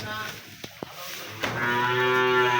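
A young Burmese breed calf, about a month old, lets out a long drawn moo on a farm, preceded by a couple of soft knocks and low background murmur, fairly close.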